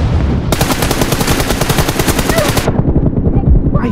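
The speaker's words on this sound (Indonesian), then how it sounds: "Tembakan dia." Rapid automatic gunfire in a Free Fire-style mobile shooter team deathmatch rattles loudly in a dense, continuous burst, then gives way to scattered shots and noisy action.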